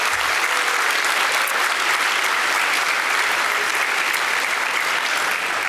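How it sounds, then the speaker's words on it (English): Steady, dense applause from a seated panel audience thanking the booth crew, a continuous wash of many hands clapping at close range with no speech, holding at an even level throughout. "I also want to get a quick round of applause for our guys in the booth today"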